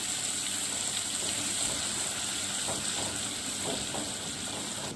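Onions with turmeric sautéing in a pan, a steady, even sizzle and frying hiss that runs unbroken and fairly loud throughout, with no voices.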